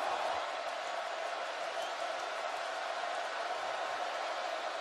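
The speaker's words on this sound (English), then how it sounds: "The crowd's starting to get into this too now, Dave. It's getting loud." Stadium crowd at a college football game between North Carolina State and Virginia Tech, a steady broad roar swelling as fans grow louder, with no clear talk over it.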